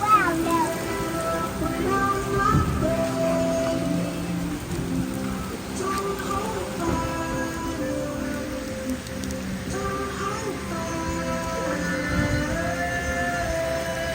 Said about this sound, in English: Oh my God, it's pouring.